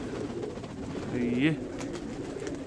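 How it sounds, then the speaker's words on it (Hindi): A yellow-eyed low flyer pigeon gives a brief coo close by, partly under a man's speech, with a steady outdoor background hum. "ये कबूतर है जी जो कि पकड़ा है, लो फ्लेयर है, पीली आंखों का कबूतर है।"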